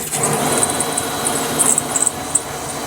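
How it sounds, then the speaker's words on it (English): A power drill whirs steadily as a hole saw grinds into a thick ICF block, with a rough, scraping cutting noise and occasional higher squeals, close up. "I'm going to use my hole cutter"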